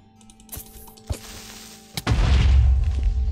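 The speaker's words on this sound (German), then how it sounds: "also der Creeper ist im Wasser explodiert" A Minecraft creeper explodes in water with a sudden muffled boom that rolls into a loud, sustained rumble, following a few clicks from game input.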